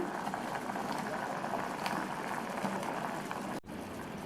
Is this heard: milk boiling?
yes